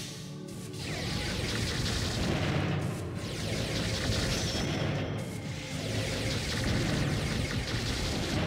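Dense, continuous gunfire from a weapon in the shooter game CR:BR, loud and sustained with brief dips, forming a steady rattling wash of shots and impacts with no voices.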